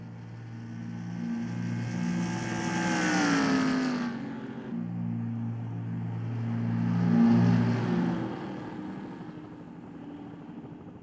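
NASCAR race cars in the NR2003 video game sweep past at Dover, two engine roars swelling and fading in turn with a falling Doppler whine as each car passes; no speech.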